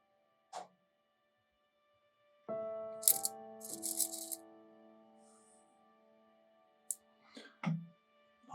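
Rough seam opal pieces from Lightning Ridge, Australia, stirred about in a container, giving a close, clinking rattle with ringing tones and a few separate knocks before and after.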